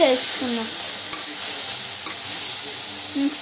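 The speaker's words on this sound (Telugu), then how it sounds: "వేసుకుని కొంచెం మిక్స్ చేసుకుందాం" Chopped tomato stirred into a hot pan while making bread chilli, a soft steady sizzle under a few short scraping strokes, close and moderately loud, with a brief faint voice near the start.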